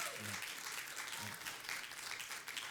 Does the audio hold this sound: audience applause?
yes